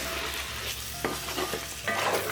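Two kilos of chicken coated in masala are stirred in a pot for Andhra-style kodi pulao, with a spoon scraping and turning the pieces amid a steady sizzle and some clinks, close and alone.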